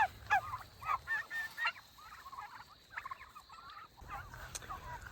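Several farm turkeys gobble and call in bursts, fairly close, with rustling and low outdoor rumble in the background.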